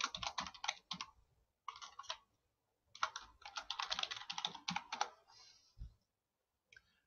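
Someone types a name, email address and password on a computer keyboard in quick bursts of close, crisp key clicks, separated by short pauses.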